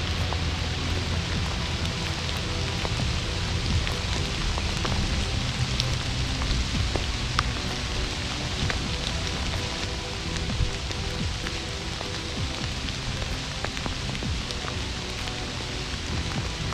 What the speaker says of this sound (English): Gotta be careful with the rain and very wet around here.